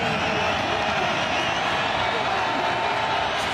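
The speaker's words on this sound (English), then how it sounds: "Crowd comes to its feet." A stadium crowd at a New Mexico State versus BYU college football game roars loudly and steadily, a dense wall of cheering with no breaks.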